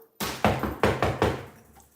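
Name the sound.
knocking imitating someone knocking on a door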